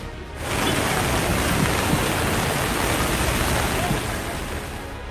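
Heavy monsoon rain pours down in Nepal: a dense, steady hiss and roar that starts abruptly and holds loud and even throughout.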